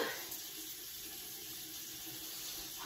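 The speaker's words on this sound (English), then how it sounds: "I do like to rinse my face again of the application" Running tap water splashing steadily into a sink while a face is rinsed, a continuous close hiss and patter with no talking.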